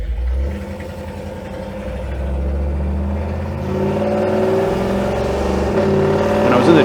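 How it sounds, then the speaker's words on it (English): A pickup truck with a Torqueflite 904 automatic transmission fitted with a shift kit accelerates on a test drive, engine note rising and dropping through crisp gear shifts, fairly loud and close from inside the cab. "You can hear the shifts, and they sound a lot better. They sound a lot more crisp."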